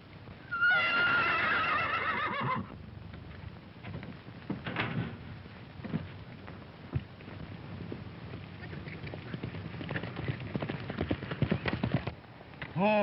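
A horse whinnies loudly at the start, then hooves clop and shuffle unevenly, with scattered knocks and movement noises, in a Western film.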